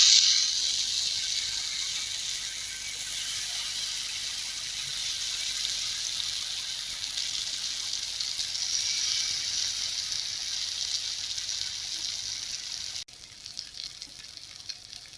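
Slices of yam sizzle in hot oil on a tava, a steady bright hiss that continues almost alone before dropping suddenly near the end.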